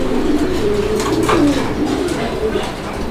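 A pair of racing pigeons coo loudly and close by, their throaty rolling calls rising and falling over a steady murmur of background noise.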